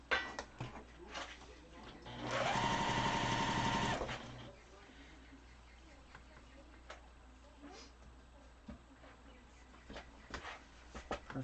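A sewing machine chain-pieces quilt blocks in one loud burst of fast stitching lasting under two seconds, followed by quieter ticks, clicks and handling noises of fabric and tools.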